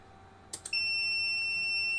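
Electronic beeps from an Audi body control module on a bench test, powered through a digital reverse-polarity headlamp high-beam adaptor relay: two short chirps, then a steady, fairly loud tone that holds to the end, alone without talk.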